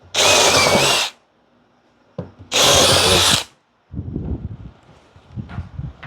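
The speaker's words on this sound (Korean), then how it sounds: "직속이 날이 들어갈 수 있는 구멍을 드릴로 내 가지고" Power drill bores a hole through birch plywood to start a jigsaw blade, working on a car audio subwoofer box; two loud, steady whirring bursts of about a second each, separated by quieter handling noise and clatter.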